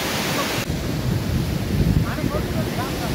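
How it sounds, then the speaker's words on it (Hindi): A cool sea wind blows at Clifton Beach, buffeting the microphone with low rumbling gusts and a faint wash of surf behind it. "यहाँ ठंडी ठंडी हवा चल रही है"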